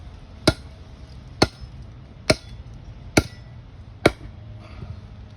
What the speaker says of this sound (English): And when I'm chopping, I'm trying to use the last half of this blade and draw it to me.